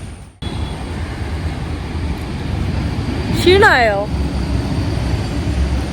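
A Kochi metro train runs at Palarivattom station, giving a steady rumbling roar with a rising, whining tone from the train midway, while a voice speaks briefly over it.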